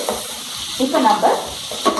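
Ingredients for a fried chicken gravy frying and being stirred in a pan, a close, loud sizzle with scraping stirs and a few bright clinks.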